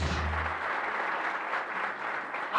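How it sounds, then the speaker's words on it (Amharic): A church congregation applauding together in a dense, steady wash of clapping that stays loud and even throughout, with no voices standing out. "እዚያ አጨብጭቡ ለኢየሱስ።"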